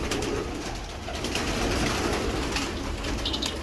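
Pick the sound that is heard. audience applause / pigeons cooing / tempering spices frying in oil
pigeons cooing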